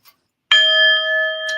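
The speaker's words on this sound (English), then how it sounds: "a little sound bell to remind us to bring our thoughts back to the center" A small bell gives a single clear, bright strike, rung once as a mindfulness reminder, and its pure tone rings on steadily and fades slowly after a faint tap beforehand.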